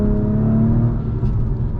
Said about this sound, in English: All you can hear is the engine.